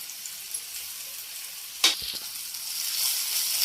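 Ginger garlic paste lands on half-cooked onions in a pan for a cauliflower fry, giving a moderate continuous sizzle with one sharp clatter of a spoon partway through.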